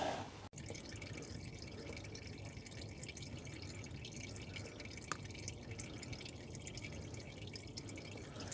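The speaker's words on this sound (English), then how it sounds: "I'm just going to let that trickle for a bit." Engine oil trickles from the sump of a Toyota Yaris Mk3 with a 1.33 VVT-i petrol engine into a jug, a steady faint liquid dribble with soft drips, and a brief sharp knock near the start.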